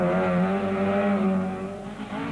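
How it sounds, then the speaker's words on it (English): Rally cars at the 1981 Manx Rally, a Porsche and an Opel, tear over bumpy public roads, their engines roaring loud and close in a steady, sustained howl that slowly shifts pitch without pause. "Rall hurling the Porsche over the bumpy roads in a desperate effort to stay ahead"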